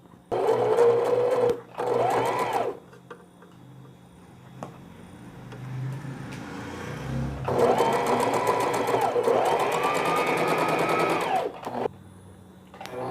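A sewing machine stitches a frill onto a yoke for a small newborn baby frock, running in several whirring bursts with brief pauses between them, close and clear, with a few quiet sounds of handling.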